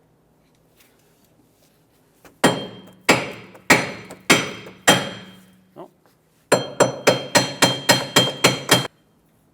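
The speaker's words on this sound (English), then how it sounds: "let's hammer the wheel bearing, wheel hub off of the knuckle" Heavy metallic hammer blows ring out as a seized rear wheel hub is driven off the steering knuckle of a 2014-2021 Mazda 6, first five spaced strikes, then a pause and a fast run of about nine more, loud and close.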